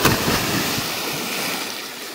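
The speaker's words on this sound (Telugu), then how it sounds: "చూసారు కదా సముద్రం అయితే అట్టుందో" Sea waves wash against the side of a fishing boat at sea in a continuous loud rush of water, mixed with wind buffeting the microphone, close and without voices.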